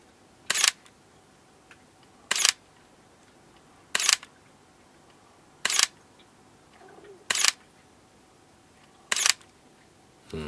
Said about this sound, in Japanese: あとはシャッター音が